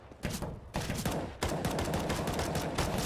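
Rapid pistol gunfire from a CZ in a Counter-Strike match on the Mirage map, loud, close bursts of repeated shots layered over dense overlapping game gunfire and explosions, continuous without pause.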